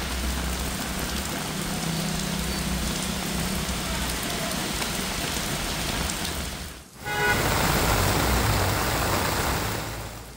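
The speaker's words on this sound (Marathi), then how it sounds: "अनेक ठिकाणी पाऊस पडतोय" Heavy monsoon rain pours steadily in an open outdoor area, a dense continuous hiss that dips briefly partway through before returning just as loud.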